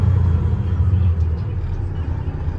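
A 2015 Freightliner Coronado triaxle glider daycab with a diesel overhauled about 100,000 miles ago runs nearby with a deep, smooth rumble that swells and eases slightly.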